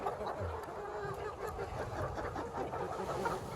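A flock of Sandy laying hens clucks and murmurs continuously in a coop, a busy overlapping chorus of soft calls at moderate distance with no speech.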